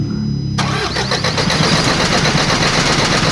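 An Isuzu Elf truck with a 4JJ1 diesel engine cranking loudly and rhythmically without catching, a close, steady churn of the starter running on for several seconds.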